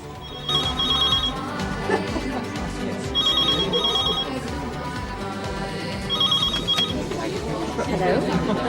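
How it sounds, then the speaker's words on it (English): An old-style telephone bell rings in a home in a 1991 British sitcom, sounding in three distinct double bursts spaced a few seconds apart over busy background noise and talk. "Just don't answer the phone."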